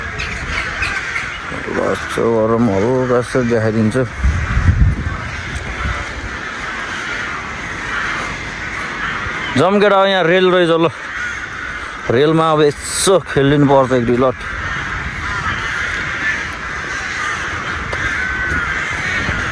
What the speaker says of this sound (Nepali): टन्नै छ कागहरू पाकी कराइरहेको छ बिचरा है